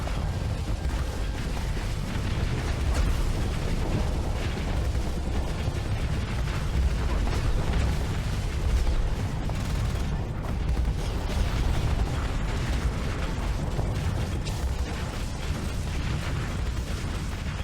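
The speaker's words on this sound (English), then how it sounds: "Now that's a lot of brightly colored explosions." Brightly colored explosions in the space combat game Starsector rumble and pop continuously, a dense, heavy barrage of bursts and booms with no pause.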